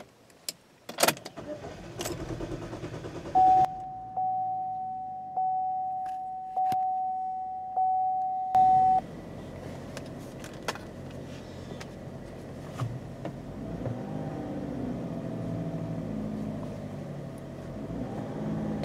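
A car with a suspected dead battery or faulty camshaft actuator cranks over in a steady rhythmic starter whir for several seconds, then catches and settles into a smooth, even idle close by.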